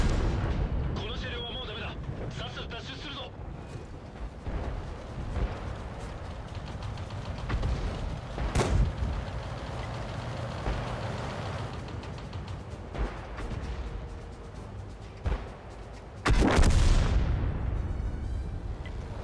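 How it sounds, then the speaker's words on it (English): Artillery fire striking a tank in the World of Tanks video game: several heavy booming impacts and bursts, one loud blast near the end, under ongoing talk and game noise. "So I just got one shot by artillery."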